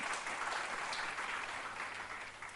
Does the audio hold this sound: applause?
yes